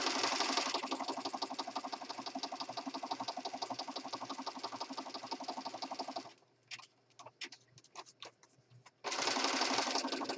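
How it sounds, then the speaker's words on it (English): A sewing machine stitches a gel print journal item with a rapid, steady mechanical whir close by, stops for a few seconds of scattered clicks and handling sounds, then starts stitching again at full speed. "let's go over to the sewing machine. Sewing land! And I'm going to stitch this."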